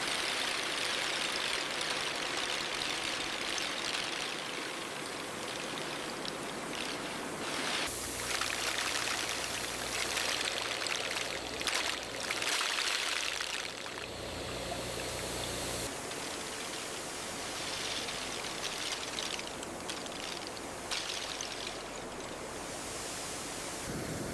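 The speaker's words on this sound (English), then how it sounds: "Water sprays from above, brushes spin from the side." Heavy water spray pours steadily onto shellfish in a factory washing line while brushes spin from the side, a loud continuous hissing rush that fills the space throughout with no one speaking.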